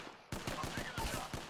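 Video game gunfire: a rapid automatic burst of evenly spaced shots, loud and close, firing continuously across the moment.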